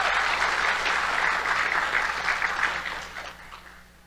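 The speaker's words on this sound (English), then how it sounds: "Can we get one more round of applause for our choir?" Audience applause for a choir at a live Miss and Jr. Miss Cherokee pageant, a sustained dense clapping that fills the space and then thins and fades toward the end.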